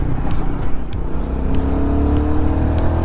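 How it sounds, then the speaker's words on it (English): Royal Enfield Guerrilla 450 motorcycle pulling away in second gear, a close, loud engine drone with rising pitch as it accelerates steadily, heard alone without talk. "I'm going to shift down to second, and there it is, the bike just moves."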